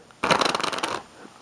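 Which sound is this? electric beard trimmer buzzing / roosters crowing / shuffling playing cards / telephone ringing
shuffling playing cards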